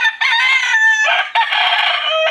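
A rooster crows loudly and close by, a long strained cock-a-doodle-doo in two drawn-out phrases, with no other sounds around it.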